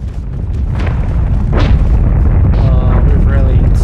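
A heavy, rumbling explosion in a military simulation game fills the whole stretch with a loud, sustained low roar, while voices talk over it.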